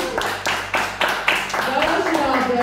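A few people clap in scattered, uneven bursts for a participant in a chili-eating challenge, close and moderately loud, with voices talking over the clapping.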